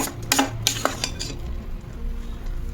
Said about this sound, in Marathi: हा गूळ विरघळायला लागलेला आहे, एकसारखं हलवत राहायचं आपण।